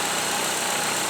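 A used car's engine idles unevenly as if about to stall or still warming up, a steady, rough broadband rumble with no voices.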